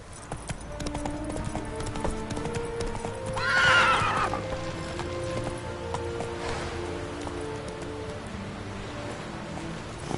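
Roach the horse galloping in The Witcher 3: steady clip-clop of hooves throughout, with a loud neigh and whinny rising in the middle, faint rain-like ambience underneath.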